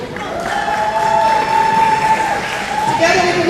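At a basketball game, a crowd claps and cheers for breast cancer survivors, a broad roar of applause under an announcer's amplified voice, building slightly toward the end.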